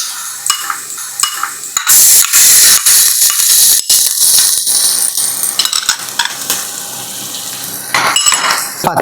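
Ginger garlic paste stirred with onions in a pan for Kerala-style beef curry, giving a loud, sustained sizzle broken by repeated sharp scrapes and clanks of the spoon against the pan.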